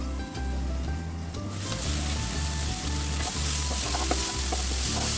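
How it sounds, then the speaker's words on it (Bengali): Small prawns fry in a pan as a spoon stirs them, a loud close sizzle broken by scraping and clinking strokes at an uneven rhythm, with no voices. "পানি শুকিয়ে দেখুন একদম ভাজা ভাজা হয়ে গিয়েছে"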